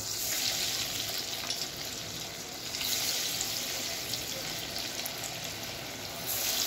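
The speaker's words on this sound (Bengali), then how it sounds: "এবারে এগুলোকে ভেজে নেব।" Steady crackling sizzle of potato kurkure frying in hot oil in a kadai, continuous and fairly close, with a slight swell in intensity partway through.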